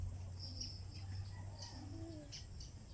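Racing pigeons coo softly during a training session, low repeated calls with faint chirps over steady outdoor background noise.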